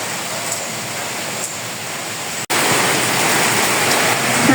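Steady rain pours down outdoors at a home cooking spot, a dense broadband hiss that jumps louder after a brief dropout midway and stays continuous with no talking.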